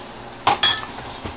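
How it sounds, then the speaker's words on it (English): A utensil stirs soup in a metal pot, giving two sharp metallic clinks close together and then a few softer scrapes and taps, with no voices. "Give that a good stir."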